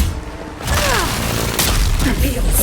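Booming cannon blasts and crashing impacts rumble loudly in a chaotic battle scene in the video game Avowed, with a muffled voice underneath.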